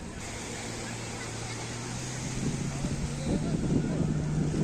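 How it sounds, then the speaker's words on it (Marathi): A jet ski passes at sea off Juhu, a rising motor drone that grows louder toward the end under strong wind and surf noise. "जेट्सकी गेली"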